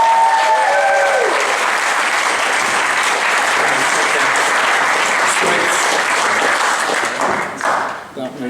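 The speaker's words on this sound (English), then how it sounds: "can we give, please, a huge round of applause, welcome, cheer and whoop for Dunstan Bruce?" A live audience at a Dunstan Bruce show applauds loudly, with cheering and whooping, in a steady dense wall of clapping that holds throughout and thins briefly near the end.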